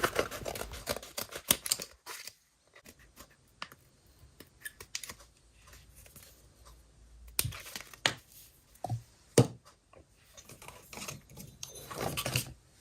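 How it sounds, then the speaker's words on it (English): A Swiss Army knife slices through gasket material for a motorcycle engine rebuild, making quiet, irregular snipping and scraping clicks in short bursts with pauses between them, heard up close with no talking. "I used my Swiss Army knife to cut out the gasket shape."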